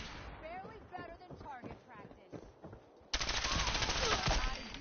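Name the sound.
gunfire from Gunners enemies in Fallout 4 video game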